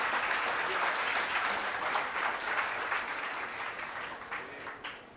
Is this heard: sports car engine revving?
no